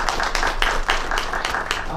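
Audience clapping for a panel on a conference stage, a dense burst of many hands applauding close by, sustained and even for a couple of seconds.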